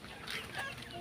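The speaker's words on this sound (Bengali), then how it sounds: "এই যে দেখেন কই উঠে মুরগি" Desi and Fayoumi chickens clucking in a backyard coop, a short, faint burst of soft clucks close by.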